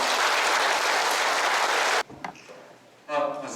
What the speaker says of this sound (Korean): 그리고 우리 모두를 위해서 박수 한번 부탁드립니다.